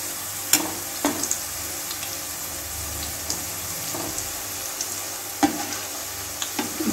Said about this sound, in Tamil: மிதமான தீயில வச்சிருக்கங்க, அதிலே வேகட்டும்.